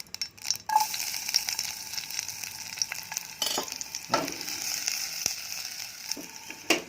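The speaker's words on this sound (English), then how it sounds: "Hot pan, 2 tablespoons of oil in there, swirl it around. Okay, in goes the shallot." Shallot frying in hot oil in a stir-fry pan while cooking Cantonese chicken, a steady sizzle with sharp bursts and scraping stirs scattered through, fairly close and moderately loud.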